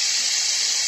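Cashews and raisins go into hot oil for a fried rice recipe, giving a brief, steady, bright sizzle with no talking.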